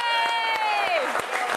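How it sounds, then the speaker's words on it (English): A studio audience claps for a guest on a TV show, with scattered claps under a bright voice cheering over them. "Hey, everybody, clap for Brian."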